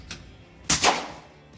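A .25 caliber FX Dreamline air rifle fires a JSB 25-grain King pellet: a faint click, then a single sharp, loud crack with a short tail, with nobody talking.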